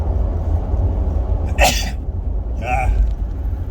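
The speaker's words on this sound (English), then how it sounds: "I gotta sneeze. Excuse me." A person sneezes twice in quick succession, a sharp burst followed by a softer second one, over a steady low rumble of background noise.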